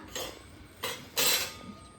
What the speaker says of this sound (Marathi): आता ह्या डब्यामध्ये ठेवणार आहे काचेची भांडी